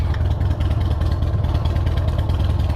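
A motorcycle engine runs close and loud with a rough, throbbing low rumble and continuous clatter, mixed with wind buffeting while riding.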